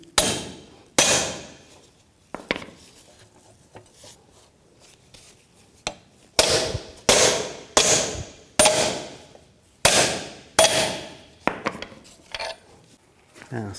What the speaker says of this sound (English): And hammer these in.